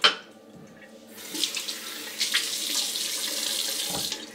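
Tap water runs steadily into a sink for a rinse, a broad hiss that starts after a brief quiet moment and holds at an even level to the end.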